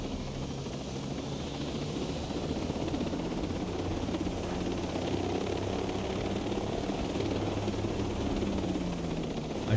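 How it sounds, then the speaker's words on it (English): A helicopter in the video game Ghost Recon Breakpoint, its steady rotor drone and engine hum continuous and fairly loud, holding an even level throughout. "and borrowed one of their helicopters."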